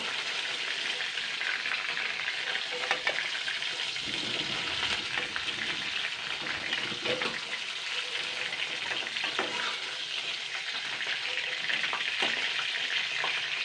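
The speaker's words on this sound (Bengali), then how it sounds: "মাছের মাথাগুলো সুন্দর ভাজা হয়ে গেছে, এবার আমি তুলে নেব।" Fish heads fry in a pan of oil with a steady, loud, unbroken sizzle and fine crackling pops throughout, with no voices.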